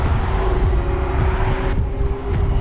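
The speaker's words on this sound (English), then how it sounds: "Lots of cars coming up." Cars passing on a road near Los Angeles, heard while riding an electric unicycle out of the mountains: continuous loud traffic roar and wind noise, with a couple of quick swishes as vehicles go by.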